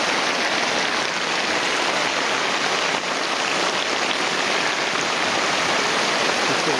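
Steady broadband hiss of rain pouring outdoors, loud and continuous throughout with no voices, close to the sound of running water.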